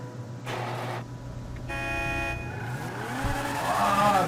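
A white Lamborghini sports car in a video game revs and accelerates, a loud engine drone rising in pitch with a brief horn-like tone partway through, no voices.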